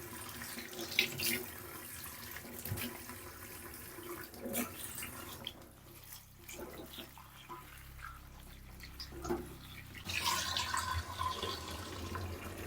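A tap in a hillside village home runs with cold mountain water, a faint, continuous splashing stream with small clinks and knocks of household activity around it.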